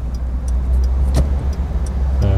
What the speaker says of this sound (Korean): 좌측 깜빡이 켜주고 엑셀 밟으면서 엑셀 밟아봐요